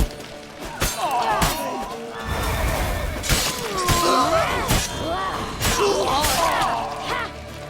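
Loud horse whinnies rise and fall repeatedly over a busy soundtrack in the video game The Witcher 3, in Novigrad, with thuds and clattering impacts mixed in.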